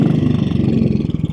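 1957 Royal Enfield Bullet 500 motorcycle on the move, a loud, close single-cylinder engine thumping in a steady rapid pulse with no talk.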